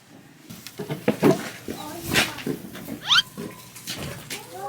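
Shiba Inu dog whimpering, a series of short, high, squeaky whines and snuffling noises close by, mixed with people talking nearby.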